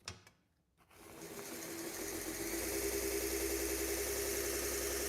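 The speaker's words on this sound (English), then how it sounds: "Let's get to sharpening." A powered sharpener works on a Ranger sword replica from Lord of the Rings. It starts after a brief near-silent moment, spins up over a second and settles into a loud, steady mechanical whir and grind.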